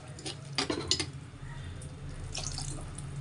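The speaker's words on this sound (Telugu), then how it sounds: "1 కప్పు వాటర్ వేద్దాం." Water poured from a cup into a pan of curry with softened, smashed onions, before fish is added; a short splashing pour near the start, then a faint bubbling, trickling wash, with no talk.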